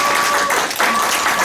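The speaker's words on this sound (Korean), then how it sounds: "우리 서동 선생님 박수로 모셔드리겠습니다." An audience at a civil servants' workshop gives brief applause to welcome a speaker, a steady wash of clapping throughout.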